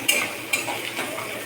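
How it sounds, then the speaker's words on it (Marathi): Onion stir-fried in a pan for chicken masala: a short soft sizzle with two quick scraping strokes of a spoon. "कांद्याला परतून घेतो."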